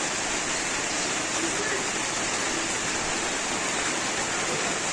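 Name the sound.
rain falling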